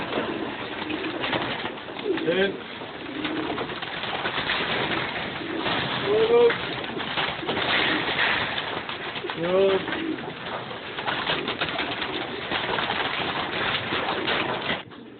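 Racing pigeons in crates coo softly in a few repeated bursts over a constant background rustle and hum, with occasional shuffling of birds close by.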